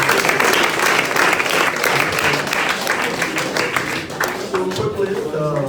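An audience applauds at a school event in Liberia, with steady clapping filling the space and voices and a few shouts mixed in throughout.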